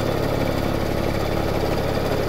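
A sewing machine stitching fabric pieces of a bag, producing a steady, close mechanical whirring hum that holds even throughout with no pauses.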